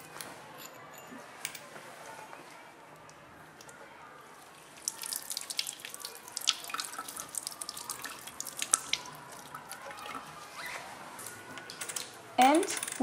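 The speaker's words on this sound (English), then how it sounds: "Then we clean the coins with water." Copper coins are rinsed under running water at a sink, with faint trickling and dripping that grows into louder splashing and clinking of wet metal, near and steady.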